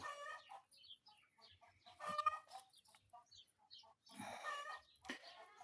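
Chickens cluck softly in scattered bursts with faint peeping from chicks, fairly quiet and close.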